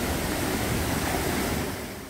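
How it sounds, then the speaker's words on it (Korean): A small waterfall tucked behind rocks above a pool in a valley stream in a forest recreation area gives a steady broadband rushing roar that is close and constant and fades slightly at the end. "이 포인트는 바위 뒤에 아담한 폭포와 용소가 숨어 있는데요."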